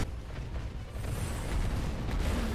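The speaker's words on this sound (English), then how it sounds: "There you go, some more firecrackers." Firecracker prosthetic tool bursts in the Sekiro video game, heard as dense crackling pops and booming thumps layered over noisy combat.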